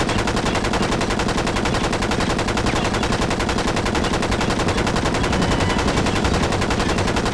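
Relentless automatic gunfire in the video game Enter the Matrix: loud, rapid shots run continuously for several seconds at an even rhythm, with no voices over them.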